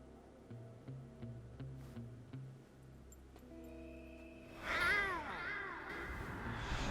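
In Metal Gear Solid 3, a soldier lets out a cat-like meow, a voice imitating a cat, rising briefly over a quiet game soundtrack of soft tones and footsteps.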